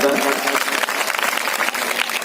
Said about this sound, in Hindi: तालियों से स्वागत करिए भारत माता का